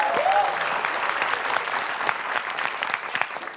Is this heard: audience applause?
yes